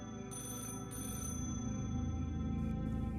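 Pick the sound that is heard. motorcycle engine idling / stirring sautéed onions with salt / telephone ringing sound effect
telephone ringing sound effect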